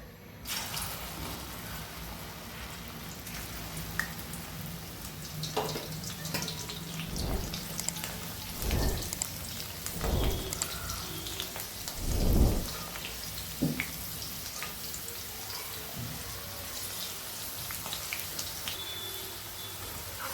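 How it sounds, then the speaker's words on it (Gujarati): Whole okra fries in hot oil over a high gas flame with a constant crackling sizzle. Occasional dull low thumps from the pan sound through it, and no one speaks. "તેલ ગરમ થઈ ગયું છે અને આપણે ફાસ્ટ ગેસે ભીંડાને તળી લેશું"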